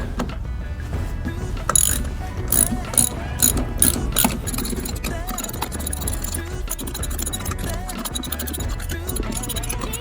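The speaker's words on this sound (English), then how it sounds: "we're gonna go ahead and get started with our deep socket 9/16 wrench here" A deep 9/16 socket wrench ratchets lug nuts on a Wrangler 2 scooter wheel, with close, repeated clicking and metallic scraping in uneven bursts that carry on steadily throughout.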